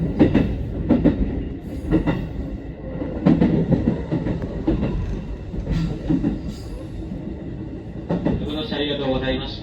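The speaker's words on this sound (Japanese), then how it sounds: "この先電車が揺れますのでお足元にご注意ください。" A JR West Osaka Loop Line inner-loop commuter train runs on the rails between Nishikujo and Shin-Imamiya. Close, steady rumbling carries a rhythmic clickety-clack of wheel thumps, and a faint wheel squeal rises at the end.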